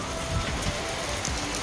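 Heavy rain pounds steadily on a surface near pigeon crates at dusk, a dense continuous patter with no voices.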